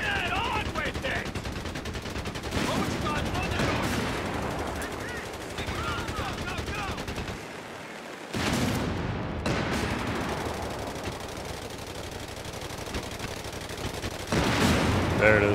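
Machine-gun bursts and rifle fire crackle through a Company of Heroes 3 battle in Potenza, with dense, loud volleys, a brief lull midway, then more firing, mixed with tank combat and shouted orders.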